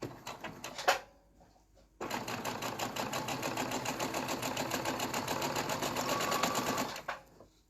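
A sewing machine runs a brief burst, pauses, then stitches a 1/4 inch seam in a steady, fast, even mechanical whir for about five seconds before stopping.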